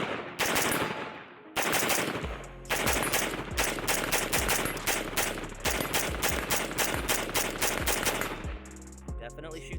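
Rapid semi-automatic shots from an AR-15 rifle, a police trade-in upgraded on a budget, firing steel case ammunition, loud and close, in quick uneven strings with brief pauses between bursts.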